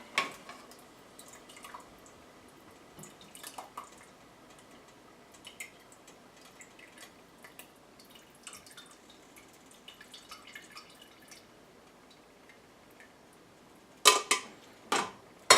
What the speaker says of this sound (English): that's why I'm running it through a strainer real quick